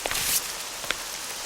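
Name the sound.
rain falling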